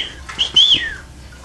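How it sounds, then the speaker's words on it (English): Outdoors, a lone bird gives a short, thin whistled call that rises and then slides down, heard once against quiet background hiss. "Oh, yeah, there's our bird."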